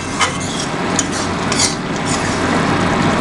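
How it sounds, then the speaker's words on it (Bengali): Mutton mince and potato curry being stirred in a pan, with a steady scraping and light clatter of a spoon against the metal over a soft sizzle, close and continuous with no talk. "একটু জাস্ট নাড়িয়ে নেওয়া হচ্ছে।"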